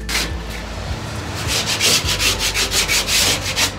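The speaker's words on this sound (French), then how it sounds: "Avec une petite cale, je casse l'arête derrière." A small sanding block rubbed over the edge of a workpiece, heard close up as rapid, rhythmic back-and-forth scraping strokes that grow steadier and louder toward the end.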